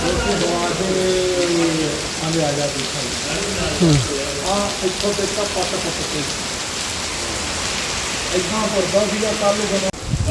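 Heavy rain pours steadily throughout, a dense hiss of falling water. Voices and brief tonal sounds come and go underneath.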